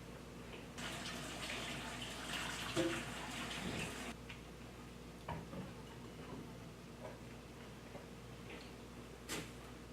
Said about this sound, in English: The first thing I will do is rinse and drain the black beans.